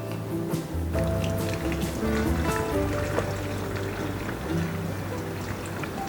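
Water pours steadily into a blender over coconut, with dripping and splashing over a low hum, moderately quiet throughout.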